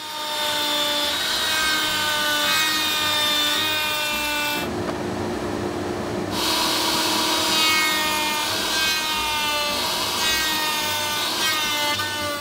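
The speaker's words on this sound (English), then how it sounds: "Now we can do that same cutting process, but at the router table, rotating as needed." A router table cuts wood joints with a loud, steady high-pitched whine and the rasp of wood against the bit, pausing briefly midway before resuming, close and with no talking.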